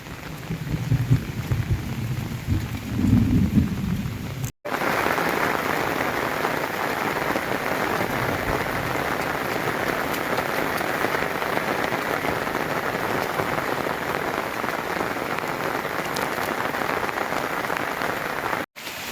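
Heavy rain pours in a dense, continuous roar, with low rumbling thunder early on and the downpour steady and loud throughout.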